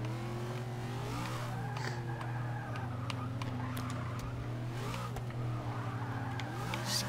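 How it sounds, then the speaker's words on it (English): A race car in Forza Motorsport 6 fishtails and drifts through a corner, its engine droning steadily with rising and falling revs and faint tire squeal, loud and continuous with no talking. "I need to drift this corner"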